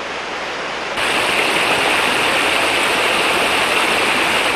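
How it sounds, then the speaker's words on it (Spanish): Rainwater plunging from great heights down a waterfall in the Chachapoyas highlands of Peru, leaping between rocks; a steady, loud broadband roar that swells abruptly after the first second and then holds constant, with no voices. "El agua de las lluvias se reúne en las cumbres y luego se precipita desde grandes alturas saltando entre las rocas"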